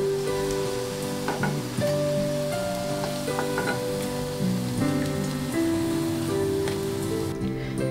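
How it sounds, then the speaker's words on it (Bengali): Cabbage manchurian pieces fry in hot oil, giving a steady, close sizzle that runs the whole time beneath prominent background music. "বাকিগুলো ঠিক সেম প্রসেসে আমি ভেজে নেব"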